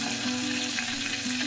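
Mustard seeds and cumin sizzle and crackle in hot oil in a pan, a steady close-up frying hiss throughout with no voices.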